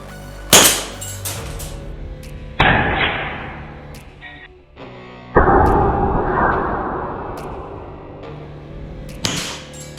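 An Acetech AceHive 40mm airsoft grenade launcher set off by hand, giving several sharp thumping bursts, each trailing into a hissing rush of gas, close and loud with pauses between shots.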